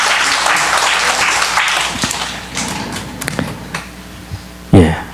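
A church congregation claps for the people beside them, a dense, loud burst of applause that gradually thins into scattered claps and taps before a final thump near the end.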